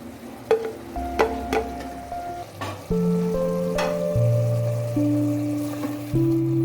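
Tomatoes added to a hot pan with a few sharp clacks and stirring knocks, then a louder, steady sizzle of frying that holds to the end, with sustained tonal hums underneath.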